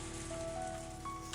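Rain falls in the video game Higurashi When They Cry, a steady, soft hiss of drops on a surface with faint sustained musical tones beneath it and no voices.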